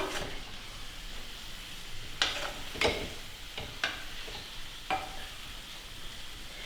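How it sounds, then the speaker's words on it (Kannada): Vegetables for a weight-loss salad are stirred and mixed in a bowl, giving quiet, irregular scraping with a handful of sharper clinks and taps against the bowl, close by and with no talking. "ನಾವು ಈ ತರಕಾರಿಗಳಿಗೆ ಹಾಕಿ ಮಿಕ್ಸ್ ಮಾಡ್ಕೋಬೇಕು ಚೆನ್ನಾಗಿ ಸ್ಟೇರ್ ಮಾಡ್ಕೊಳ್ಬೇಕು"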